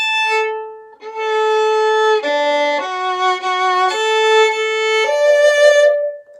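Solo violin plays "Evening Prayer" from measure 21 as a slow, clear melody of sustained bowed notes that move stepwise between open strings, heard close and alone.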